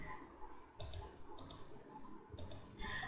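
A computer mouse clicking through a web page while setting up social sharing backlinks: three short, crisp clicks spaced about a second apart, close and fairly quiet, over a soft room background.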